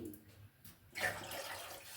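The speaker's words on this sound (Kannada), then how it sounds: "1-2 ಗ್ಲಾಸ್ ಆಗೋಷ್ಟು ನೀರಿಟ್ಟಿದ್ದೀನಿ." Water pours into a cooking pot in a home kitchen, to be heated for ragi mudde. A quiet rush swells suddenly about halfway through and keeps running steadily, close by, with no talking.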